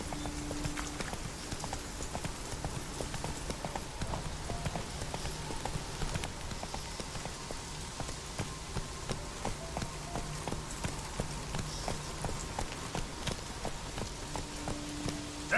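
Geralt's horse Roach gallops in The Witcher 3, steady rhythmic hoofbeats clip-clopping continuously at moderate volume over a soft ambient background.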